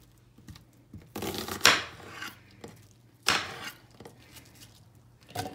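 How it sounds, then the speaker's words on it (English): A small onion being roughly chopped with a knife on a cutting board, giving a few irregular sharp knocks and scraping bursts with quiet gaps between them, close by. "1 small onion, we're just gonna roughly chop this because it's going to go into my bullet."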